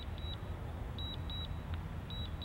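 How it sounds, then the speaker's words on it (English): A DJI Mavic Mini remote control gives its return-to-home alert: short, thin high beeps, several of them, mostly in pairs at a steady pace, set over a low continuous rumble. "So I'm just gonna press and hold on the remote up here, and you'll hear it beep."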